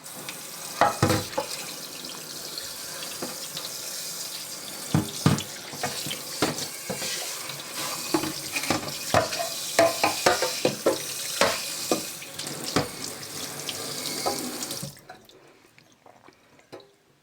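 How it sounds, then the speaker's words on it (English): A Minky scouring pad is rinsed under a running tap at a sink, giving a steady close stream of water with irregular splashes and squelches for about fifteen seconds before the flow stops. "I'm just gonna rinse."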